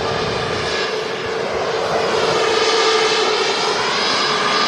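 A Jet2 Airbus A330 arrives at Manchester Airport, its engines a loud, steady broadband roar with a sustained whine that holds for the full stretch, no voices over it.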